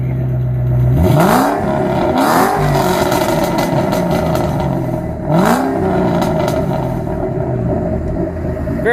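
A Ford GT500's exhaust rumbles at idle, then barks through three sharp revs that climb and fall, loud and close, with a raspy growl settling back to a steady burble between blips.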